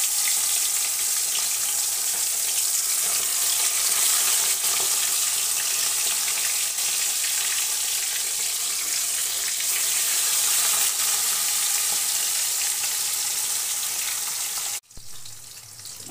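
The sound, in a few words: bata fish frying in a pan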